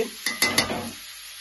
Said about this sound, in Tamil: நீங்கள் ஒரு கரண்டி உப்பு போட்டீங்க என்றால் கெதியா வதங்கி வெங்காயம் நல்லா பொரிந்து விடும்